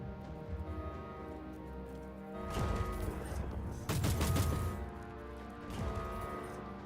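A deployed turret in a video game firing in rapid rattling bursts, three volleys of dense automatic fire over a steady droning background, moderately loud.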